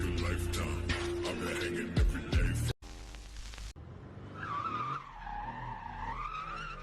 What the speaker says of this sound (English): This person tried to drift in the desert.